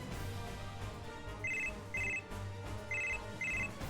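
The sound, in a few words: telephone ringing in video game Super Robot Wars 30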